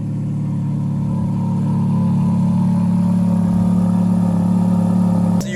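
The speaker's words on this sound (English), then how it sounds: "So you hear a car, but it ain't my car. It's the 430." Ferrari F430 V8 engine running nearby, a loud steady low rumble with a faintly rising tone, cut off abruptly at the end.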